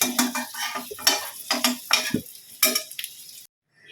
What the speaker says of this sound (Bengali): আলু পেঁপেটা একদম ভাজা হয়ে গেছে